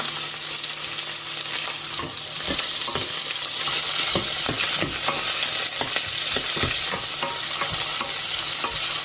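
Garlic and curry leaves sautéing in a pan for an okra curry, a loud continuous sizzle of hot oil punctuated by regular spatula scrapes and taps as the pan is stirred.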